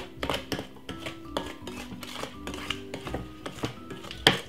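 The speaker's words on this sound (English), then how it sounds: "it's very easy to cream it like this" Butter and sugar being creamed in a bowl for blueberry muffins, a spoon or whisk knocking and scraping against the sides in quick irregular clinks, close and fairly quiet.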